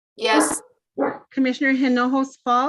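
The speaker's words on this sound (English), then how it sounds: "I'm sorry about that. That's my dog." A pet dog barks several times in short, sharp yips and bow-wows near a microphone at home during an online planning commission meeting, while a person calls a roll-call vote.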